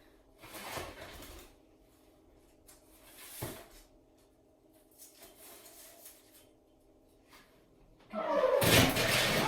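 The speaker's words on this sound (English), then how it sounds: "don't mind the squeak on my oven" A heavily used home oven's squeaky door swings open in a kitchen after a batch of oatmeal cookies, with faint clatter first and then a loud, close creaking open at the end.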